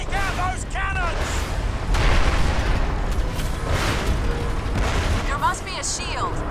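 Cannons and artillery boom in heavy, rumbling blasts in the video game Crysis, dense and continuous under voices talking and other combat noise.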